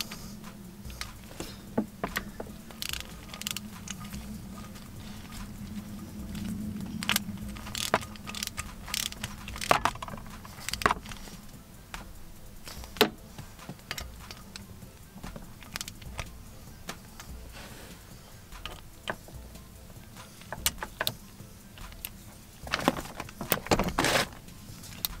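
Bolts being tightened on a Toyota Tacoma short shifter housing: a steady stream of ratchet clicks and small metallic ticks close by, in bursts with short pauses and no talk.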